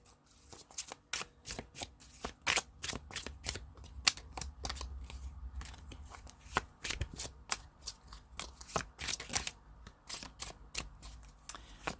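Tarot cards are shuffled by hand during a reading. Quiet, crisp card flicks and slaps come in a steady stream of sharp ticks with small riffling bursts, close and soft, with no voices.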